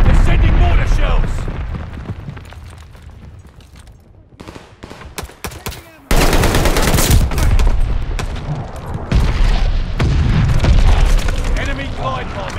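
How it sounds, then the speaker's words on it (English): Mortar shells and bomber strikes in Call of Duty: Vanguard erupt in heavy, rumbling booms layered with rattling gunfire, easing briefly before a sudden loud blast renews a dense, continuous barrage. "Enemy bombers coming up! Descending mortar shells!"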